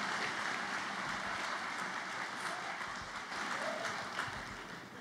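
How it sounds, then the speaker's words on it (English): A graduation crowd at a high school ceremony gives a round of applause, a broad, even wash of clapping that sounds somewhat distant and fairly faint. "I think we deserve a round of applause here."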